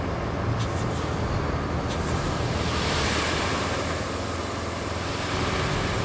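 Rain falls in the truck-driving game RoadCraft, a dense, steady wash of broadband hiss with a low rumble, constant and even throughout with no talking.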